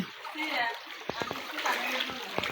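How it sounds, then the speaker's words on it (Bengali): Floodwater current runs through a flooded village area in Bangladesh, with continuous rushing and splashing water and brief sharper splashes, fairly close. "আপনারা দেখতে পাচ্ছেন কিভাবে স্রোত নামছে"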